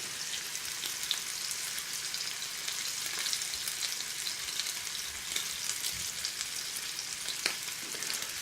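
A pork chop sizzles while pan searing, giving a steady crackling hiss with scattered sharp pops and spits, fairly close and continuous, with no voices.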